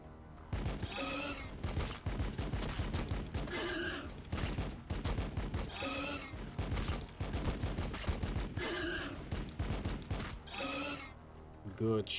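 Gunfire in Warhammer 40k: Battlesector, loud rapid bursts of shots repeating in waves across the whole stretch, with some voice-like chatter mixed in underneath.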